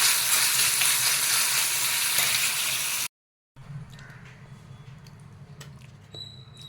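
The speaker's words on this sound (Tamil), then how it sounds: "இந்த தேங்காயை நல்லா நெய்யில் வறுத்தாச்சு" Grated coconut roasting in ghee gives a dense, close sizzle for about three seconds, then a brief silence, followed by a much quieter crackle with light stirring clicks.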